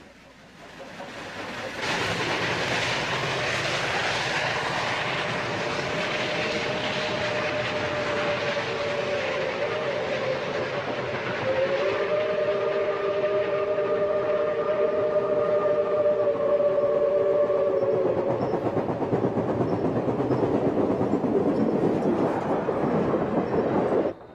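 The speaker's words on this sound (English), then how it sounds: "an excursion train pulled by a very famous steam locomotive, engine 4501 of the Southern Railway" A model excursion train pulled by a Southern Railway steam locomotive, engine 4501, runs on a large indoor model railroad layout. A steady mechanical rumble continues throughout, with long, sustained whistle-like tones swelling in over the middle stretch before fading.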